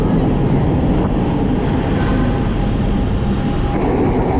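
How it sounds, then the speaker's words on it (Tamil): A Chennai suburban train passing Mandaveli railway station, a steady close rumble and rush of the carriages that holds loud and even throughout with no voices. "அடுத்ததாக ட்ரெயின் கிராஸ் பண்ணுறது தாங்க மந்தவெளி ரயில்வே ஸ்டேஷன்"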